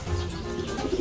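Long-distance racing pigeon cooing softly and continuously in a breeding loft, a brief low murmur nearby.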